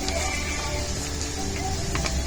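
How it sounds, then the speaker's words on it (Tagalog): A Canon PIXMA G3031 inkjet printer mechanism whirs and hums steadily, close by, with faint clicks and shifting motor tones throughout. "Checking the printer."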